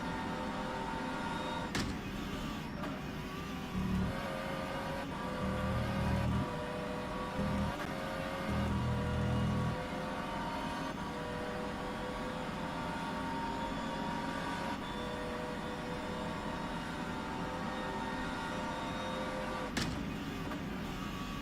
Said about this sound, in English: I'd love to get some on board with the pure noise of this fabulous race car.